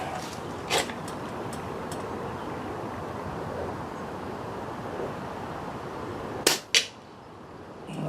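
Two sharp, close reports from an Air Arms S200 air rifle sound in quick succession near the end, following a single similar crack early on, all over steady wind noise buffeting the microphone outdoors.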